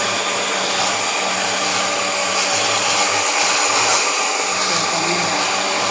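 An electric grinder grinds spices for Batak Toba ikan mas arsik, a carp dish, with a loud, steady whirring motor drone that continues unbroken from start to finish.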